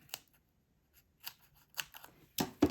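Paper cut with scissors while making Santa gift tags: a few short, crisp snips scattered through quiet, ending in two louder, closer cuts.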